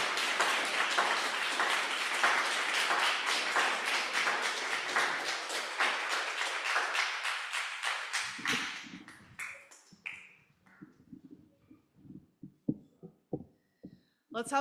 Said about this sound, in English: Let's have another round of applause for Kathryn and Brandon